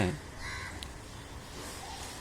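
Crows caw at dusk as birds return to roost, faint and somewhat distant calls blended into a busy outdoor background with steady hiss.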